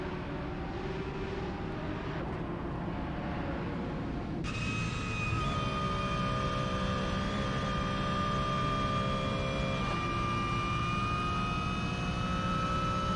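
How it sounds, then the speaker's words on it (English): A steady, loud flat-six engine drone with sustained high whining harmonics that shift in pitch, a racing car heard on board in a video game race at Spa. "The very nice flat 6 engine sounds ringing in the ears of myself."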